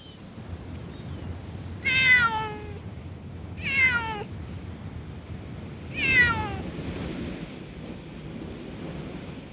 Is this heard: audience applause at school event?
no